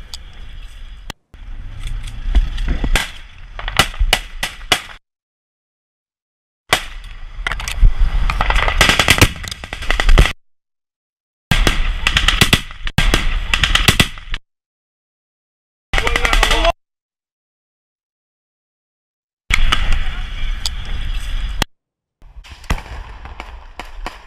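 Gunfire as Hamas fighters shoot at Israeli soldiers in Gaza, loud bursts of rapid automatic shots and cracks in several choppy segments separated by silent cuts, with voices briefly heard.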